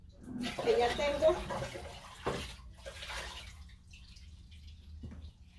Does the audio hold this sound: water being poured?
yes